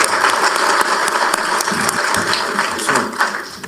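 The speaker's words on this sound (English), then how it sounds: "let's give them a round of applause for being here." Loud, crackling audience applause after a 2026 Jefferson County candidates' debate, a dense burst of many hands clapping close by that holds steady for several seconds.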